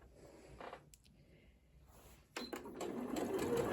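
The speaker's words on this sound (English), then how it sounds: "So let's start sewing." A Janome Memory Craft 8200 QCP sewing machine stitching without the foot pedal: quiet mechanical clicks and brief whirs at first, then a steady, continuous stitching hum for the last second or so, close and fairly soft.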